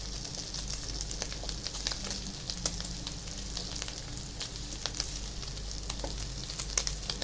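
Liempo, sliced pork belly, frying in a pan while pieces are flipped one by one, giving a continuous crackling sizzle with scattered sharp pops, moderately close and steady, with no talking over it.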